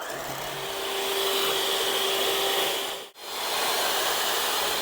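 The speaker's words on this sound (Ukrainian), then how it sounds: "Для тіста 5 яєць, дрібка солі і цукор. Збиваємо до пишної маси." An electric mixer whips eggs with salt and sugar into a fluffy batter, giving a loud, steady whirring hiss close up that briefly cuts out for a moment before resuming.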